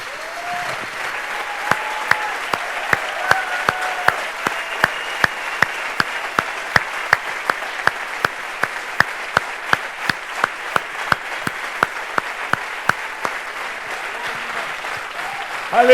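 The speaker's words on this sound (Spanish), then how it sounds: "¿Por qué no aplaude al Señor?" A church congregation at a Pentecost service claps steadily in time, crisp regular handclaps sounding for about sixteen seconds over a sustained musical drone.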